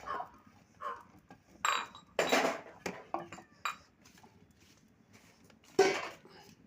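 Chopped carrots and beans stirred into a cooking pot for biryani, with scattered metal clinks and scrapes of a spoon against the pot, some louder knocks among quieter gaps.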